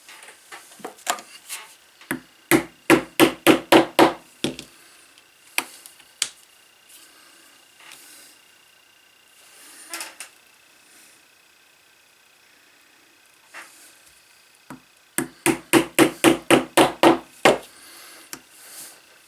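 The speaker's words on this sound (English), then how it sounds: "Punch 2 round holes and you cut to each one." Two bursts of sharp, rapid mallet strikes on a leather punch, driving round holes into a leather strap for a 1940 Luger holster buckle, with scattered lighter taps and quiet pauses between the loud rhythmic runs.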